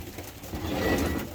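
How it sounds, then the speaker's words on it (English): Baby racing pigeons coo softly and excitedly at feeding time in a loft, a short burst of murmuring close to the listener. "little baby pigeons are the best. Especially this age, you can see them all getting excited"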